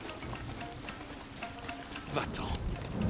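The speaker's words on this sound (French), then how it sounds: "Il pleut." Rain falls in Ghost of Yotei as a steady, soft hiss of drops, faint and continuous beneath muffled background noise, with a brief louder swell near the end.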